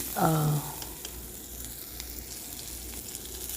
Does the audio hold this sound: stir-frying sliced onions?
yes